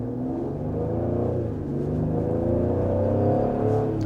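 A 2023 Ford Explorer ST, a 400 hp performance SUV, accelerates with a steady, throaty exhaust drone whose pitch climbs gradually, heard close and continuous without talk.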